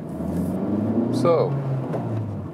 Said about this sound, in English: how does the Honda Civic Type R behave in everyday driving? That's just the comfort mode.